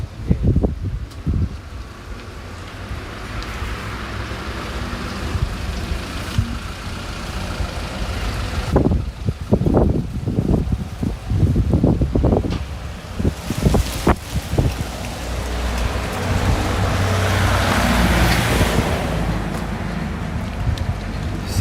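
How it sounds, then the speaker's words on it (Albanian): Strong wind buffeting a microphone outdoors in the town of Gramsh, Albania: heavy low rumbling gusts that roar in irregular bursts and then settle into a continuous blustery noise, with no talking. "por këtu ka shumë erë të fortë, siç mund ta shohim edhe nga pemët."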